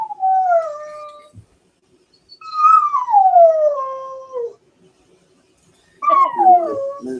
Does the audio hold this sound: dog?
yes